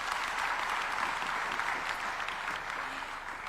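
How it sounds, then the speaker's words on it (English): Audience at the Second Africa Urban Forum in Nairobi breaks into sustained applause, a dense wash of clapping that holds steady and tapers slightly toward the end. "A big round of applause to His Excellency."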